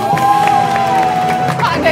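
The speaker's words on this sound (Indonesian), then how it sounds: "Tepuk tangan dulu." Audience cheering and applause at an Indonesian phone giveaway event, loud crowd whoops and clapping mixed with shouting voices throughout.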